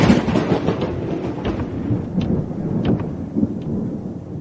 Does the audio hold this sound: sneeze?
no